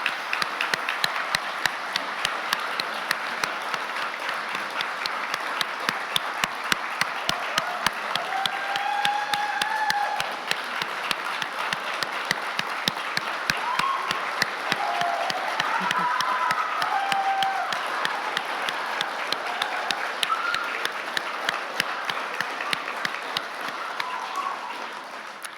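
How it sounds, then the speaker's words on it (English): An audience claps at a nurse pinning ceremony, sustained applause from a crowd filling a hall, steady and moderately loud, with some sharper individual claps standing out throughout. "Let's give them a big hand of applause."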